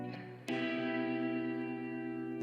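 A reverb-washed guitar loop from the Cymatics Vibration Pack, with a fresh chord struck early and another near the end, ringing steadily and alone without speech.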